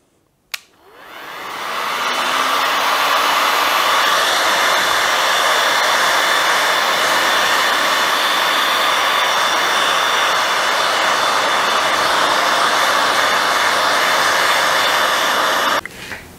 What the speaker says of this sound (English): I'll turn on the hot air gun, give it a few seconds to warm up,